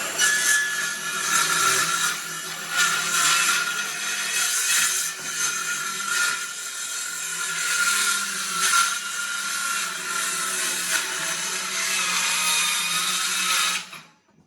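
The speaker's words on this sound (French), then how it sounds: "Une scie circulaire." A circular saw cuts through a board for a bar shelf with a loud, continuous high whine that wavers as the blade bites, then winds down at the end.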